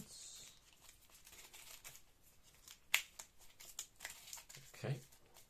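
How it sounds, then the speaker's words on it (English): Cards are shuffled by hand during a solo tabletop board game, soft riffling and flicking in scattered bursts with a couple of sharper snaps, faint and close. "End of the level, we shuffle cards."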